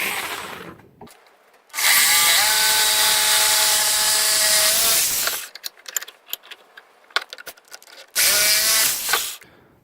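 A power tool whines loudly through wood in two sustained bursts while cutting parts for a homemade fidget spinner, its pitch rising and falling as it cuts, with clattering handling noises in between.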